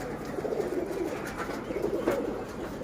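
Silver pigeons coo in low, rolling phrases, two drawn-out bursts rising and fading across a steady close-up murmur, with no voices over them.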